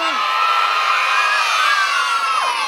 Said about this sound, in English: let me hear you yell,